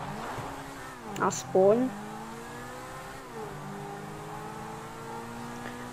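A car engine in GTA V story mode revs up in first person, pitch climbing in smooth rising sweeps with a brief squeal, while someone talks quietly over the game sound.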